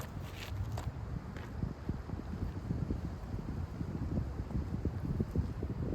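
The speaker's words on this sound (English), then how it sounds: "Oh, that wind is so pushy." Wind gusts across the microphone on an open outdoor disc golf course, a steady low buffeting rumble that lasts the whole stretch with no talking.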